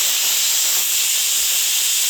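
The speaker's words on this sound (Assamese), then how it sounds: "মটনখিনি হৈয়ে গ'ল, 10বাৰমান মই চিটি মাৰিব দিলোঁ" A pressure cooker with mutton inside lets off steam in a loud, steady hiss that fills the whole moment without pause, with no talking over it.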